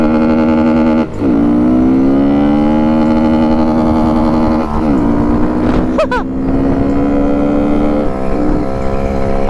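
A vehicle with a busted wheel bearing drives at speed, its loud droning whine shifting in pitch as it accelerates and lets off, with sharp changes around gear shifts and no clear talking.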